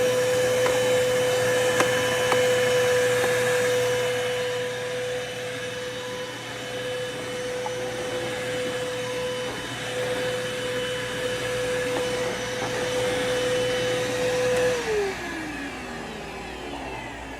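Bissell upright vacuum cleaner found beside a highway running with noisy bearings: a steady loud whine and drone for about fifteen seconds, then spinning down as it is switched off.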